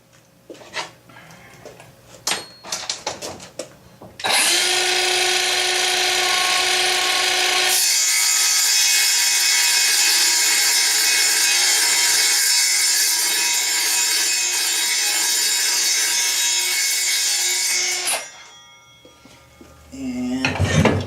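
A saw cuts through a bracket for a breather box to shorten it, a loud, harsh, continuous rasping grind lasting around fourteen seconds, with brief clatter and handling before and after.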